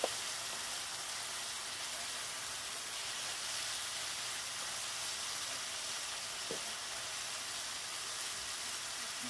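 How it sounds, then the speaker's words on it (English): Steady, hissing sizzle of taco meat frying in a hot pan, continuous and even throughout with no talking. "Listen to that cooking and sizzling."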